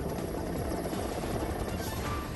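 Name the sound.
Air Force helicopter during river rescue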